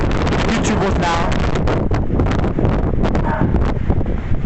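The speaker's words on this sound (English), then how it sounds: "Crazy wind." Strong outdoor wind buffets the microphone in a loud, continuous roar with gusty swells throughout, with no clear talk.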